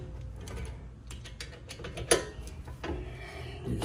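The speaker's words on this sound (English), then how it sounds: "7mm socket ratchet. We're just gonna tighten this." A 7mm socket on a ratchet snugs a bolt on the rear brake of a 2018 Ford Edge, giving a quick series of faint clicking pawl ticks with one sharper metallic clack partway through.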